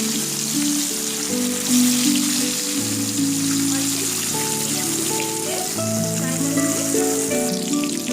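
Fish slices frying in hot oil in a kadai, a steady close sizzle running throughout, with melodic background music layered over it.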